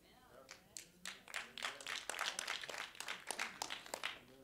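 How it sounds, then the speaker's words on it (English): A small scattering of audience members at a spoken gathering applauding briefly, a few uneven claps building to a light, patchy round at moderate distance, with some voices mixed in. "6 of you applauded"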